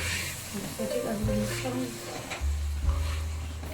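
Mutton frying with yogurt in a karahi while being stirred, a steady sizzle with scraping stir strokes and low thuds, close and moderately loud.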